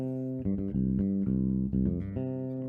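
A bass guitar plays a line of distinct, sustained low notes in a steady rhythm, several notes in succession, clear and close with no other sounds.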